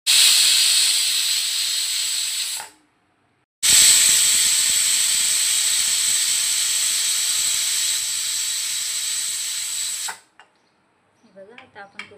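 A pressure cooker holding mutton dum biryani vents steam in loud, close, sustained hissing bursts: one blast of about three seconds, a short silence, then a longer jet, ending in quiet clinks and faint noises.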